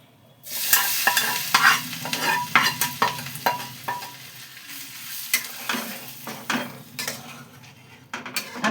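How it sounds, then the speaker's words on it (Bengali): Close, busy kitchen noise from a pan of chicken koftas as curry goes in: bursts of sizzling alongside clattering and scraping of a utensil against the pan in irregular strokes. "এইবার এটা এর মধ্যে ঢেলে দেবো, এই কোপ্তাটার মধ্যে ঢেলে দেবো।"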